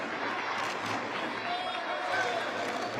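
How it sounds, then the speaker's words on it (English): Taipei fans cheer and shout in a hall during a junior taekwondo championship match in Chuncheon, a dense steady crowd roar of moderate loudness with a commentator talking over it. "It's the Taipei fans doing their best to give Wang Chailing a little bit of encouragement."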